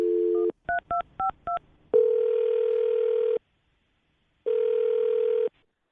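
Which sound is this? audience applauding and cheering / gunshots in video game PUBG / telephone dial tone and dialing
telephone dial tone and dialing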